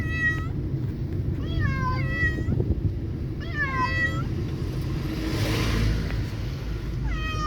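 Cats meow repeatedly, several drawn-out cries in quick clusters, close by, over a continuous low rumble of traffic with a passing vehicle.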